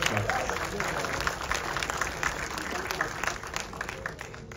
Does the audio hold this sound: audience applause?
yes